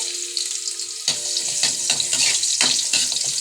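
Chopped ginger sizzling in hot oil in a frying pan, a steady loud crackle with stirring scrapes and bursts as the ginger is moved around, no voices.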